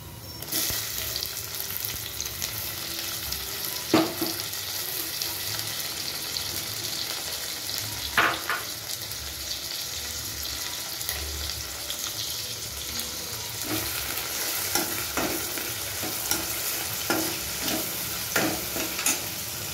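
Onions and tomato frying in a pan, a steady close sizzle with periodic scraping clicks of a spoon stirring, continuing throughout.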